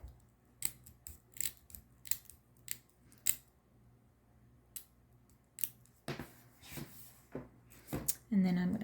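Scissors cut into millinery material while a boater-style fascinator is being made, giving a series of sharp, close snips at an irregular pace with soft rustling of the material between them.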